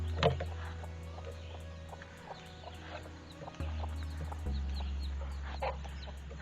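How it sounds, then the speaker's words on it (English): A hen clucks in short, nervous bursts against a steady low hum of background noise, with a few sharper calls near the start. "Misha, do not chase the hen."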